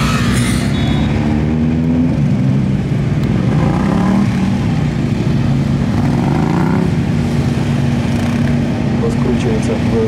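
A KTM Duke 390 motorcycle on a gymkhana run at MGKC 2021, its engine droning and revving steadily up and down throughout at close range, with a voice talking over it.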